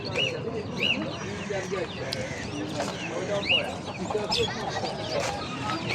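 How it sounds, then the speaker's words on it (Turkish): Bantam hens and a rooster at a busy Istanbul poultry market give repeated clucks and short calls, moderately close, mixed with other birds and background chatter of people talking. "Ee, 2, 4, 5 tane tavuk var. Bir tane horoz var."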